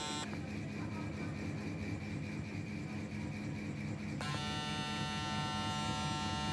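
An electric hair clipper running at 10,000 RPM hums in a steady, close buzz, its pitch shifting slightly partway through as the load changes, with no talk over it.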